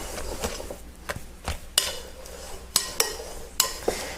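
Sicilian no-knead bread dough is mixed in a bowl with a utensil, giving irregular knocks, scrapes and sharp clinks against the bowl over a soft background.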